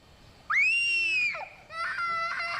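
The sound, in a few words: child screaming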